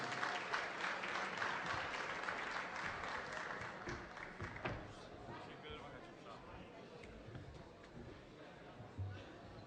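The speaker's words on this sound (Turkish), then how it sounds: "Alkışlarınıza Sayın Polat Alper'i konuşmalarını yapmak üzere kürsüye davet ediyoruz." An audience at a ceremony celebrating a newspaper's 12th anniversary in Northern Cyprus claps loudly, and the applause gradually thins and fades out with some murmuring voices underneath.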